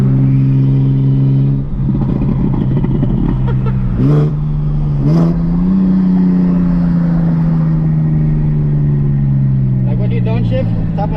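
An 800 HP big-turbo BMW 335i engine heard from inside the car, idling with a loud deep drone, then blipped twice in quick revs before rising in a long, steady pull, with a voice talking over parts of it.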